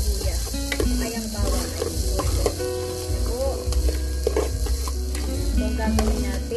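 Garlic and onion sauté in a pan for chicken tinola, a steady close sizzle with a few stirring scrapes and light clinks running throughout, no talking.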